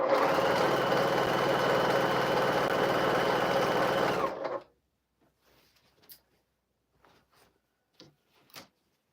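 A sewing machine stitches along a quilt with a steady, loud, continuous whir for about four seconds, then stops, leaving near-silence broken only by a few faint scattered taps and rustles.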